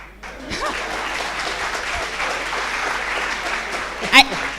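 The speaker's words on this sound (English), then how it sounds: "Round of applause." An audience at a university faculty orientation applauds the dean, a steady, even roar of clapping from many people that holds throughout, with a voice speaking at the start and a brief louder burst near the end.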